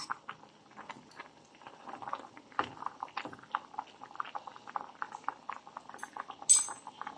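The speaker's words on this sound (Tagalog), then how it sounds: "Ayan, kumukulo na po." Soft bubbling from a simmering pot of pork hock and chicken, irregular small pops and gurgles, with a light metallic clink near the end; quiet and close.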